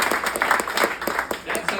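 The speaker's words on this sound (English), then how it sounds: "Give yourselves a round of applause" Comedy club audience applauding during a stand-up set, a continuous patter of clapping from a crowd, moderately loud, with some talk mixed in.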